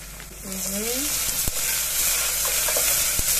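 Spice and herb paste being stirred in a hot pan for a Gabonese-Congolese sauce, giving a steady close sizzle with scraping strokes and a couple of sharp clicks of the utensil against the pan.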